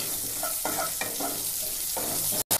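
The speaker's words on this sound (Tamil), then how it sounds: "அந்த வெங்காயத்தையும் இதில் கலந்துடலாம்." Large onion is stirred into an egg curry masala frying in a pan, giving a steady sizzle with scraping stirring strokes throughout and a brief cutoff near the end.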